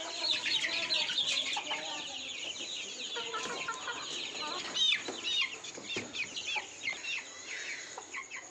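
Twenty-day-old desi poultry chicks cheep and cluck continuously at close range in a summer brooding shed, their high peeping calls overlapping, with occasional knocks and scuffles.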